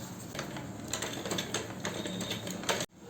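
A sewing machine stitches a neckline center line in a continuous rattling mechanical whir with fast ticking pulses that stops abruptly near the end, with no voices.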